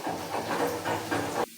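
Tadka of chillies hitting hot oil for a chicken salan, a loud broad sizzle that surges in waves for about a second and a half and then cuts off abruptly.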